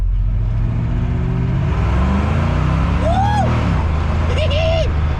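A car engine fitted with an Edelbrock carburetor idles with a loud, steady low rumble, while someone talks over it and short whistling tones rise and fall.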